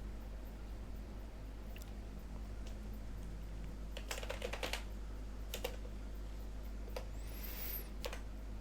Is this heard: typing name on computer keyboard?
yes